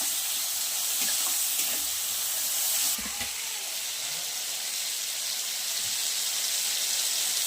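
Chicken frying in a pan for a chana masala dish, a continuous close sizzle and hiss with faint stirring scrapes underneath.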